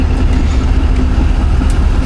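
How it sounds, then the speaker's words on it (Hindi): Pakistan Express passenger train approaching Rohri Junction in Pakistan, a steady loud low rumble of rolling stock and wheels on rails, continuous and close throughout with no talk. "46 टाउन पाकिस्तान एक्सप्रेस अप्रोच बना रही है रोडी जंक्शन पे"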